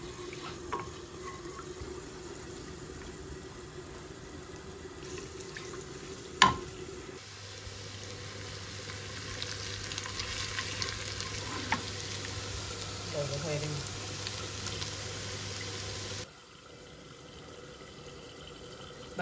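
Oil and a little ghee tempering sizzle into cooking lentil dal, a steady soft hiss with a sharp clink and faint stirring, moderate in level and ending abruptly.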